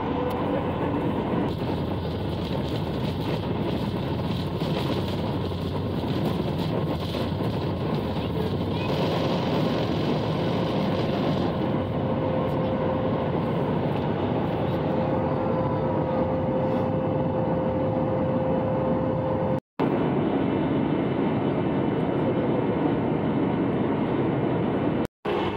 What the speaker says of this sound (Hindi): अब विमान दौड़ेगा,